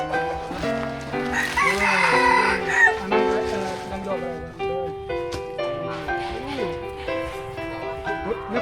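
Chickens cluck close by while a rooster lets out a crow, with brief speech and other farmyard sounds mixed in at a rural village in Champasak, Laos.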